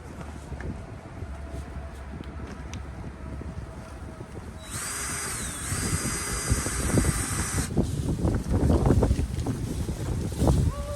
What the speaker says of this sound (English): They must have come loose because it's flipping in the wind right now.